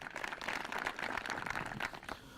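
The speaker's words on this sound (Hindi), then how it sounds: "जोरदार तालियां इनके लिए" An audience claps and applauds steadily at a farmers' quiz show staged in Alwar, Rajasthan, the applause faint and continuous with no speech.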